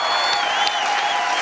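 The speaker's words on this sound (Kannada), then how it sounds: "ಬರ್ಲಿ ಒಂದು ಜೋರ್ ಚಪ್ಪಾಳೆ." Applause from a studio audience at a Kannada TV game show, a steady wash of many hands clapping close by for the whole short stretch.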